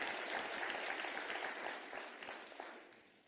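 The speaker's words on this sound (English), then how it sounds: "Can you give them another round of applause, ladies and gentlemen?" Audience applause for a youth choir at a national skills competition opening, a brief burst of many hands clapping that fades over about three seconds.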